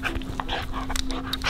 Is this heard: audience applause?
no